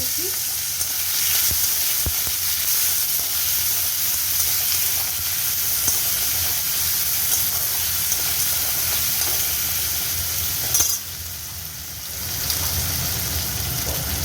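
Ginger paste and tomatoes sizzle steadily in hot tempered oil in a pan for a dry vegetarian aloo dum, a close, continuous frying hiss with a brief dip near the end.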